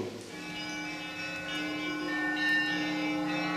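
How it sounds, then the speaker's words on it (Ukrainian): A church bell rings at the gold-domed St. Michael's Cathedral in Kyiv, its sustained tones humming steadily with overlapping partials and a slight swell near the end, loud and alone with no voices. "вдарив дзвін. Дзвін столичного Золотоверхового Свято-Михайлівського собору."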